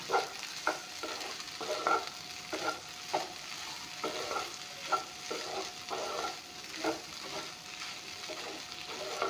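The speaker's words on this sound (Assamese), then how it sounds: "এতিয়া এইখিনি অলপমান ভাজি ল'ম" Okra and scrambled egg stir-fried together in a pan, a soft steady sizzle punctuated by regular scraping strokes of a spatula roughly every half second, close and fairly quiet, with no talking.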